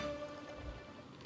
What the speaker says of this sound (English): Well, we are seeing some rain